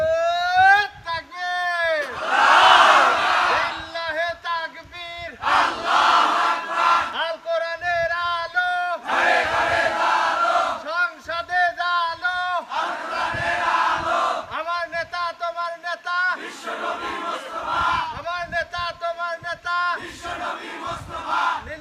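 A large crowd at a Bangladeshi religious gathering chants takbir in loud, rhythmic call-and-response bursts. Massed voices shout together in repeated waves over about twenty seconds, close and forceful.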